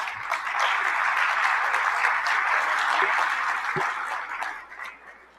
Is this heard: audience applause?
yes